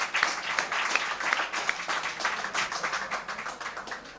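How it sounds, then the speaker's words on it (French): An audience applauds a guest at an international jury Q&A, a steady wash of many hands clapping at moderate loudness, with a few sharper individual claps standing out and no speech. "Et je vous demanderai de l'applaudir,"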